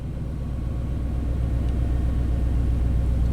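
The engine of a 1991 Chevy K1500 truck runs after the throttle is released, a steady low rumble that holds at an even level throughout, heard close with no talking.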